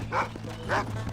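A dog gives two short barks in Red Dead Redemption, evenly spaced and close, over a steady low background hum.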